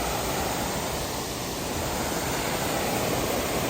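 Water leaks through the front gate of an Erie Canal lock as a loud, continuous rushing hiss that stays steady from start to finish.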